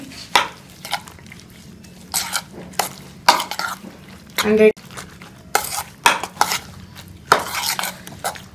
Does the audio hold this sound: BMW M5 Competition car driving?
no